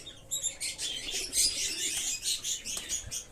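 Pigeons in a breeding loft, soft chirps and faint cooing calls repeating in quick bursts, quiet and close with no talking.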